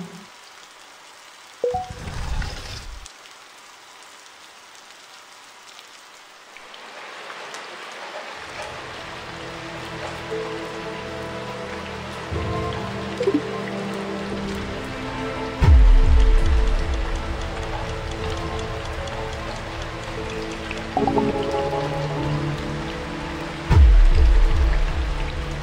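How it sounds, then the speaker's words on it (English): Steady rain pours down in Road to Nowhere, a stylized FMV point-and-click adventure made in Unity. A hiss swells in after a few seconds and stays constant, broken by two deep, heavy thuds near the end. "this rain is something else"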